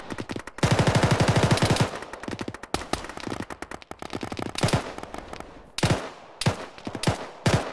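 Automatic rifle fire in the military shooter Arma, with a sustained close burst of rapid shots followed by scattered single cracks and short volleys, some nearer and some more distant, without any talking.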